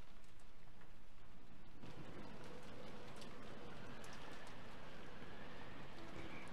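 Steady rain falls in the visual novel game Umineko: When They Cry, a dense continuous hiss of drops with a low rumble underneath, fairly quiet and without voices.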